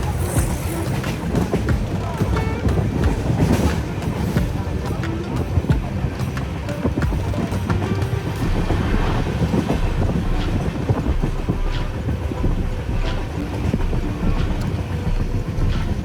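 A passenger train runs on the railway line from Karnataka to Goa, producing a steady, loud rumble and rhythmic clatter of wheels on track throughout, with faint talk beneath it.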